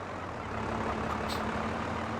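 Tractor engine in Farming Simulator 22, a steady low rumbling drone with a faint constant hum, running continuously and fairly close throughout.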